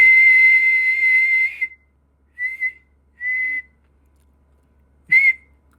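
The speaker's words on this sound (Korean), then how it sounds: "휘파람을 밀도 있게, 소리의 밀도가 있게" Whistling with a steady, held pitch: one long note, then two short phrases and a brief final burst, with pauses between them. Each note carries vibrato and sounds strong and dense, with no voices.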